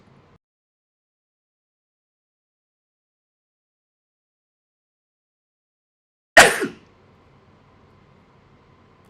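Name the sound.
sneeze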